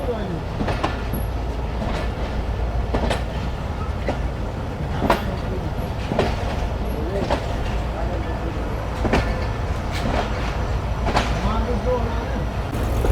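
Millat Express passenger train running on rails between Abdul Hakeem station and Khanewal Junction, a steady loud rumble of wheels with periodic clicks over rail joints throughout, heard from inside the train.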